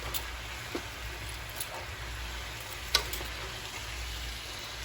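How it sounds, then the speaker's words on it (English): Steady frying sizzle of cabbage with green and red peppers in olive oil in a hot pan, with a few light clicks and scrapes of stirring over a constant hiss; no voices. "this is stir-fried cabbage. So you're not boiling it, you're not putting no water in this."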